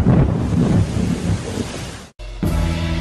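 Heavy rain pours down with rolling thunder, loud and close, while people work building an earthen dike; the roar cuts out briefly near the end and then resumes more thinly.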